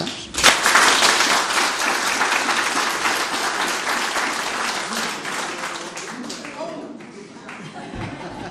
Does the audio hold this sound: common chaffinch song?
no